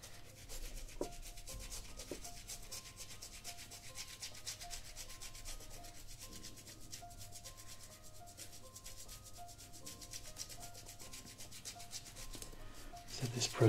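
Scrubbing brush rubbed back and forth over the aged, yellowed rubber heel of a vintage Adidas Originals SL72 sneaker, a soft continuous scratchy rubbing, close and quiet, with faint music underneath.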